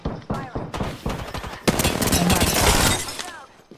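Rapid bursts of video-game gunfire in a close firefight, loud crackling shots clustered early and then a sustained dense stretch of fire, with other battle noise mixed in.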